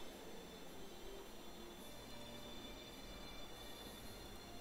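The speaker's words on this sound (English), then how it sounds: "Trains are moving." Armored train rolling along the tracks in the war strategy game Strategic Mind, a steady, dense rumble of wheels and carriages with faint squeal-like tones, continuous and fairly distant, with no voices.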